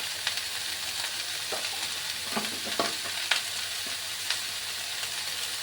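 Chopped tomatoes, green chillies and garlic paste frying in a pan for a cauliflower-tomato curry, a steady moderate hiss with scattered clicks and scrapes of stirring.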